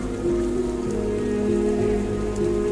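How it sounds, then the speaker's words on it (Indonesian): Heavy rain pours down during a storm, a dense continuous roar of drops drumming on surfaces, loud and close, with a steady low rumble underneath and no voices. "Di suatu malam saat badai hujan deras"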